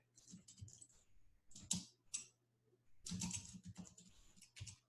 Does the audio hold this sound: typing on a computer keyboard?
yes